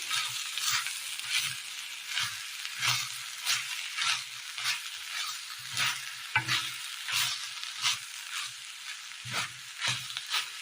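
Cooked cauliflower stirred into a sizzling Kerala thoran in a pan, steady close frying hiss under repeated scraping strokes of a spoon, with no talk.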